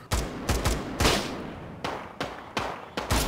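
Gunshots in a Tarkov-style shooter: a series of loud, sharp reports, several close together at the start, then spaced single shots, with no talk.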